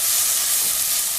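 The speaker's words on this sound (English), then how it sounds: "we're going to stir this around a little bit" Garlic and onion frying in olive oil give a loud, steady, close sizzle throughout the brief moment they are stirred, with no talk.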